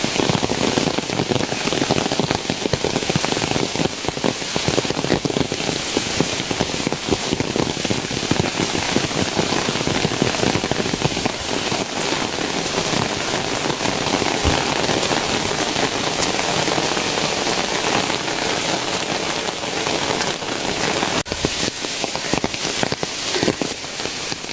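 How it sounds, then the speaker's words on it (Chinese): Heavy rain pours steadily on a forested mountain trail in the Qinling range, a dense, unbroken roar of drops close around the listener with no voices. "大雨来了，"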